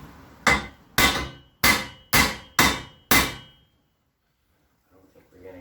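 A hammer strikes the roll cage of a Polaris RZR 900S six times at an even pace while the cage is chopped down 4 inches. Each blow is loud, close and sharp, and near silence follows.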